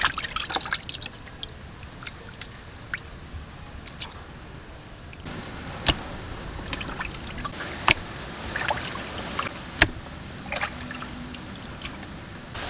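Milkfish intestines washed in water, with intermittent splashing, trickling and sharp drips and clinks over about twelve seconds, close and moderately loud, no talking.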